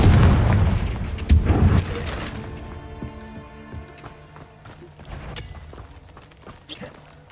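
Fiery blast from the Confringo spell in Hogwarts Legacy: a heavy booming burst at the start with a second impact, then decaying rumble under game music and effects.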